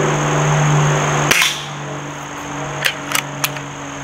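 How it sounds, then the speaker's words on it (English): A Stoeger S3000-C compact pellet rifle fires outdoors at distant cans, giving one sharp crack followed a second later by a few faint metallic pings and taps, with a steady low hum underneath. "Okay, YouTube, you see those cans down there? We're gonna shoot them from back here."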